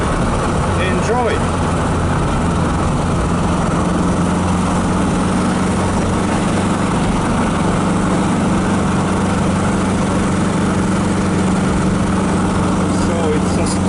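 A 1969 Volkswagen Beetle's air-cooled engine drones steadily in third gear while climbing a steep hill, a loud, continuous buzzing hum heard from inside the car, with a voice speaking over it at times.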